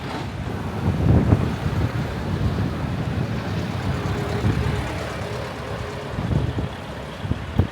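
Water flowing in a river far below a bridge in the Amhara region, a steady broad rush mixed with gusty wind buffeting the microphone, continuous and fairly loud with a few low thumps.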